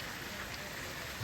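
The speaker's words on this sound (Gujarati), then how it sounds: "કાલ રાતનો એક ધારો આટલો ને આટલો વરસાદ આવે છે" Heavy rain pours in a steady, unbroken hiss over a Gujarati village after falling all night, fairly soft, with no voices.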